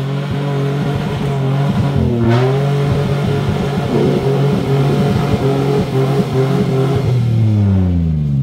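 A prepared off-road car's engine revs hard and loud close by, its droning note rising and falling through repeated throttle blips before dropping away at the end, with no talk over it.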